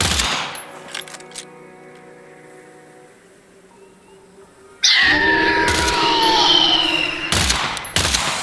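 Rapid automatic gunfire erupts in the shooter game Earthfall, loud bursts in the opening second, a quieter lull, then a sustained dense barrage with sharp shots and chaotic game effects near the end.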